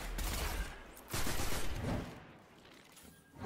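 Heavy gunfire in Destiny 2 comes in rapid, dense bursts, loud and close, and eases off briefly before picking up again.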